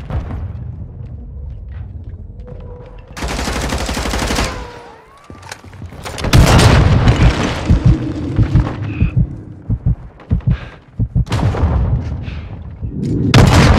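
Grenade explosion in a video game, heavy booming blasts and bursts of gunfire-like crackle in bursts, with quieter gaps between loud impacts.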